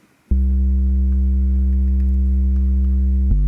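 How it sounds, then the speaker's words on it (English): A deep, steady sub bass tone sustains evenly for about three seconds after a quiet start, then briefly shifts pitch at the very end. "And then a sub bass, which sounds like this."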